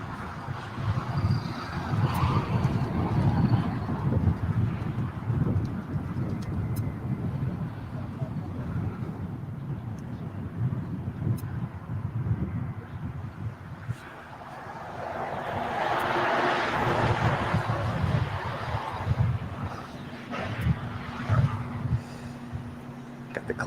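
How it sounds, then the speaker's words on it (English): A Kalitta Boeing 747 taking off from runway 25 right at LAX on a gloomy afternoon produces a distant, low, rumbling jet roar that swells midway, mixed with wind buffeting and some faint voices. "Kalita 747 taken off on runway 25 right"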